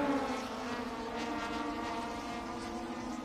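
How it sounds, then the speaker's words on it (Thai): Super 2000 class touring race car engine droning steadily during a Thailand Touring Car race, a sustained moderately loud tone at some distance with no talk. "โอ้โห เครื่องยนต์นี่พละกำลังแรงจริงๆครับ"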